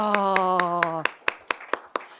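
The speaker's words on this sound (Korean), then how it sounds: "도원이 박수 한번 쳐주세요" Claps from a church youth group gathering ring out in a steady run of about five sharp, evenly spaced hits, right after a brief spoken exclamation.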